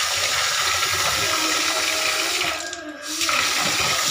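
Water pours and splashes steadily in a home kitchen during cleaning, a loud continuous rush with a brief dip partway through and no talking.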